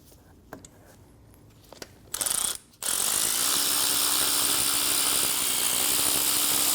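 A ratchet with a 13mm socket is removing a stud on a 2012-2022 Volkswagen Passat 2.5L five-cylinder, with a few sparse clicks followed by a brief burst of ratcheting, then a loud steady mechanical whir to the end.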